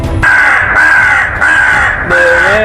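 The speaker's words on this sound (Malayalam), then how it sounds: "കാക്കട സൗണ്ട് വെച്ചിടാം" A crow caws loudly several times in a steady series of harsh, drawn-out calls, sounding as if played back through a speaker.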